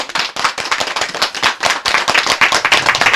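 A small group of villagers claps together at a gathering in Pınarcık, Kütahya, with brisk, uneven, close-up hand claps sounding loudly and continuously throughout.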